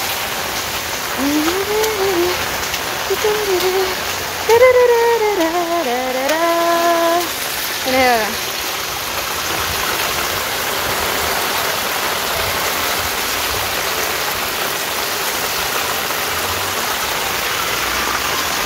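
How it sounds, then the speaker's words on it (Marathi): Heavy rain hisses steadily throughout, loud and constant, with a person speaking briefly over it early on. "आणि हे बघा पूर्ण पाऊस आहे"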